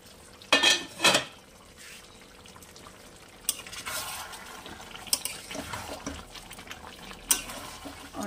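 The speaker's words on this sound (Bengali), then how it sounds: "মিনিট 5 লো ফ্লেমে রান্না করার পর আমি ঢাকনাটা খুলছি।" A pot lid comes off chicken korma simmering on low heat, giving two sharp metallic clanks, then a soft bubbling hiss with scattered clinks of cookware.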